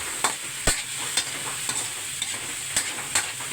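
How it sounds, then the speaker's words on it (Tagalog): Ingredients stirred by hand in a pan, with irregular scraping and clattering strokes over a steady sizzling hiss, close and moderately loud, no talking. "Halo-halo lang, halo-halo hanggang magsawa yung kamay natin kahalo."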